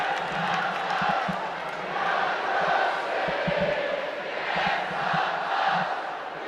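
Portland soccer crowd chanting at a women's professional match, a steady wall of massed voices with rhythmic low pulses of chant beats, continuous and fairly distant across the stadium.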